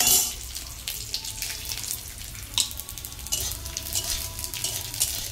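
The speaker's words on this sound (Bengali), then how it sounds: "তেলের মধ্যে আগে শুকনো লঙ্কা দেব, শুকনো লঙ্কা, গোটা রসুন দেব, দিয়ে আর দেব কালো জিরে" Dried red chillies, whole garlic and nigella seeds frying in oil give a steady close sizzle with scattered crackles and stirring scrapes, alongside a faint watery hiss.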